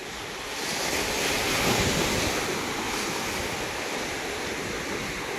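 Ocean waves wash in at Perupalem beach in the evening, a broad continuous surf roar with gusty wind noise on the microphone, steady and fairly loud with no voices.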